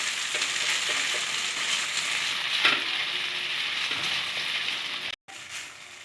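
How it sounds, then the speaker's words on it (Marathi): Pre-steamed potatoes for batate halwa are stir-fried in a pan over a low flame. A steady close sizzle runs under occasional stirring scrapes, broken by a brief silent gap near the end. "हा गॅस बारीक ठेवून आपल्याला परतून घ्यायचं आहे।"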